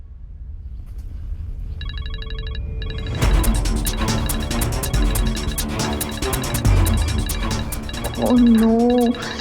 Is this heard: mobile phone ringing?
yes